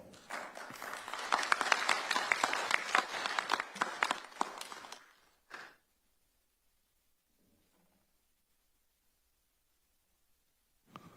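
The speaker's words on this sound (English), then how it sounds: "So let's give them a round of applause." Audience applause at a policy forum on US–Taiwan relations and Indo-Pacific security, a dense burst of many hands clapping for about five seconds, then a brief trailing clap before near silence.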